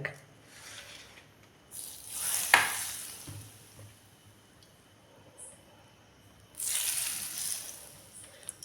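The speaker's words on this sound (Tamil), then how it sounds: "எண்ணெய் இப்போ வந்து கொஞ்சம் கொஞ்சமாக சேர்த்து நல்லா உலுக்கி விடுங்க" Homemade mango pickle being shaken with oil added little by little: soft wet squishing and rattling in quiet bursts, louder swells at intervals, with no talking.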